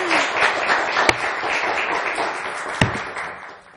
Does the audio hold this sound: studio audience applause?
yes